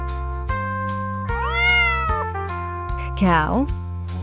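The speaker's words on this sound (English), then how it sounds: "Cat." A cat meows twice, with clear, close, rising and falling cries over a steady backing music bed.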